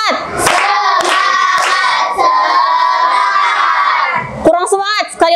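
A classroom of children claps out a rhythmic cheer routine, with bursts of sharp handclaps mixed with loud, sustained group chanting and shouting that fills most of the moment, ending with a few scattered voices.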